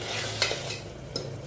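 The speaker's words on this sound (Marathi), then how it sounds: "परतून घेते" Tomatoes with ginger and garlic stirred in a pan, a low steady sizzle with two brief scraping strokes of a spatula, close and fairly quiet.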